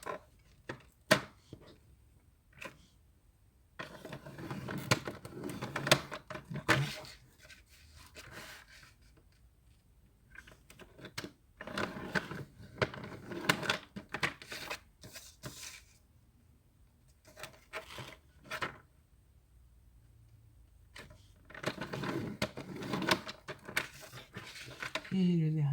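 A paper trimmer is run along a paper strip to score folds for a handmade tea-bag box. Soft scraping and rubbing strokes come in short, repeated bursts with quiet gaps between them, under a person talking.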